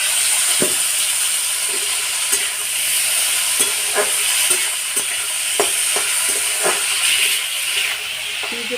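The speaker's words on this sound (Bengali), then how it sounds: "লবণ মাখানো আলুটা এবার একটু ভেজে নেব হলুদ দিয়ে দেবো" Salted potatoes with turmeric frying in hot oil, a continuous bright sizzle punctuated by repeated soft stirring clicks at close range.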